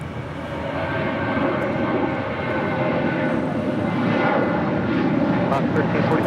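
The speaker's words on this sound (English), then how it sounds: "JetBlue Airways flight 1079 coming in from Las Vegas on an A320" A JetBlue Airways Airbus A320 jet on arrival at LAX, its steady broadband engine roar holding loud and continuous throughout, with radio-style talk faintly present beneath.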